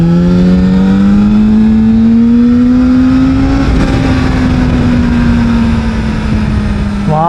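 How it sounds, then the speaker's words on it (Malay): A ZXMOTO 500RR sport motorcycle engine revs hard at high RPM, its steady buzzing drone climbing slightly and then holding, loud and close throughout with no talking. "korang kena tarik dengan RPM yang tinggi"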